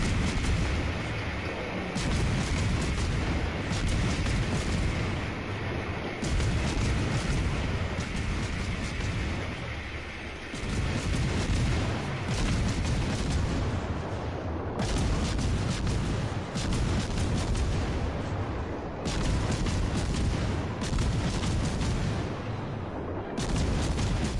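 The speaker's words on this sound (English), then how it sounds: "There's some jackass in the back of the map shooting at you." Heavy, continuous gunfire and booming cannon blasts aimed at a player's ship in a naval combat video game, loud and dense throughout with scarcely a pause between shots.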